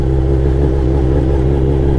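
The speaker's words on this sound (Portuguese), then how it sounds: "Porque você tá acelerando a moto." Suzuki SRAD motorcycle engine revving as the throttle is opened, a loud, close, continuous mechanical drone whose pitch wavers slightly as the revs shift.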